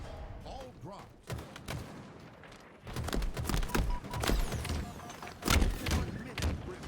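A grenade goes off during an Oddball video game match amid bursts of gunfire and heavy thuds, with the loudest blasts around the middle and near the end, and a voice talking underneath.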